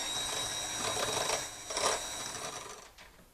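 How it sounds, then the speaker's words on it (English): Electric mixer beating egg yolks until pale and creamy, a continuous close whirring hum with slight surges in intensity, heard alone without talk. "So I'm going to beat these egg yolks until they're pale and creamy"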